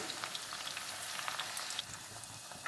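Stuffed round gourds (tinda) frying in hot oil, a steady close crackling sizzle with fine popping throughout.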